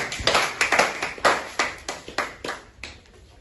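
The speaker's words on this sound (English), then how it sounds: "let us clap our hands as he makes it" A debate audience gives a sparse round of hand clapping for a speaker, about a dozen distinct claps at an uneven, loosening rhythm that thins out and fades near the end.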